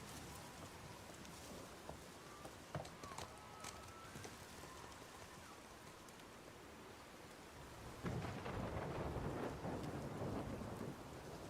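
Thunderstorm in the video game God of War: steady heavy rain with rumbling thunder and sharp cracks early on, the downpour swelling louder near the end, with no talking.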